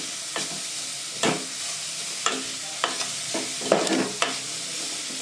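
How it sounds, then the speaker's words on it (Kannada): Grated carrot frying in ghee in a pan, with a soft steady sizzle broken by about eight distinct scraping stir strokes at irregular intervals, close and unaccompanied by speech. "ಸೊ ಕ್ಯಾರೆಟ್ನೆಲ್ಲ ಈ ರೀತಿ ತುಪ್ಪದಲ್ಲಿ ನೀಟಾಗಿ ಫ್ರೈ ಮಾಡ್ಕೊಳ್ಳಿ."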